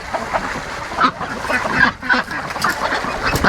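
Pekin duck on a farm during morning chores, quacking repeatedly amid steady barnyard noise, with other fowl around and no clear talk.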